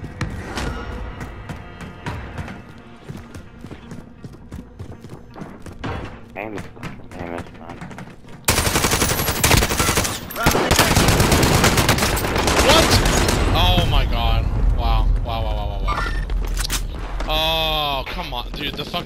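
Bursts of assault rifle gunfire in Call of Duty: Modern Warfare, first quieter scattered shots, then a loud dense stretch of rapid fire and impacts, with players talking over the action.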